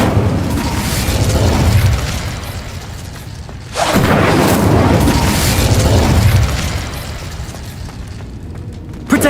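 An Incendio fire spell is cast during a duel in Hogwarts Legacy, producing loud, dense roaring blasts: one long burst cuts off, then a second sustained roar follows and tapers, with no voices over it.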